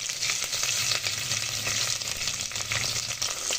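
Chopped onions frying in a pan for a mung dal dish, giving a steady, dense sizzle that stays close and even throughout with no voices.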